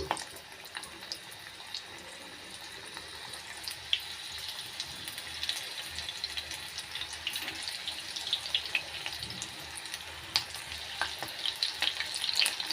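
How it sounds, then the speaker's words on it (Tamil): Tapioca (cassava) pakoda batter deep-frying in hot oil, a steady soft bubbling sizzle with occasional crackles and light clinks, fairly faint and close, no talking. "இப்போ கொஞ்சம் கொஞ்சமாக போட்டு பக்கோடா வந்து சுட்டு எடுத்துக்கலாம்"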